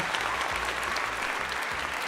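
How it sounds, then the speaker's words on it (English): Applause for a new channel member, a steady wash of clapping at moderate level with low rhythmic thumps running underneath throughout. "Big claps for you."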